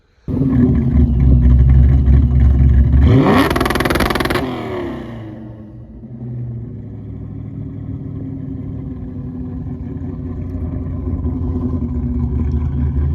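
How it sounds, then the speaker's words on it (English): A car engine sits idling loudly nearby, climbs in a sharp rev, then falls back to a steady idle that keeps rumbling to the end. "He has his car running too"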